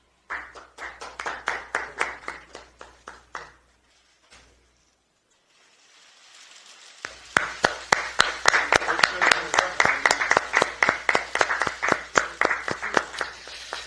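Audience applause at a Democratic Party of Korea recruitment ceremony, two bursts of steady clapping from a room of people. A short quiet gap separates them, and the second round comes louder and fuller.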